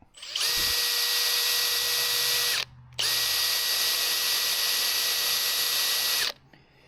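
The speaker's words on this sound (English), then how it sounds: "We're going to put it backwards into the drill chuck." A power drill with a motorcycle engine part fitted backwards in its chuck whirs loudly at a steady high pitch for about two seconds, stops briefly, then spins up again for roughly three more seconds.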